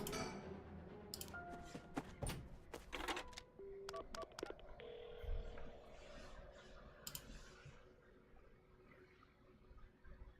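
A telephone is dialed inside the horror video game Paranormasight: a quick run of distinct button beeps and clicks, faint and close, followed by quieter clicking and low ambient game sound.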